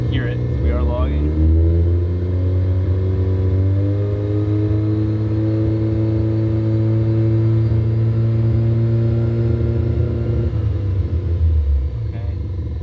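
Turbocharged Mazda RX-7 FC rotary engine running after sitting for 15 years, a loud, steady, close idle rumble with a brief rise in revs near the start, sustained throughout under occasional faint voice.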